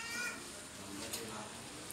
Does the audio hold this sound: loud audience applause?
no